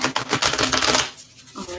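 Tarot cards shuffled briskly up close, a dense rapid rattle of riffling for about a second that stops abruptly, with no voice.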